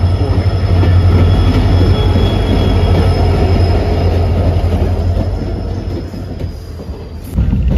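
A train moving through Kokrajhar railway station, loud rumbling wheels and carriages with a thin squeal of wheels on the rails, steady and close before easing off near the end.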